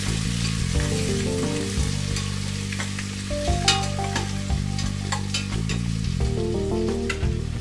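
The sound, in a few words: onions frying in a pan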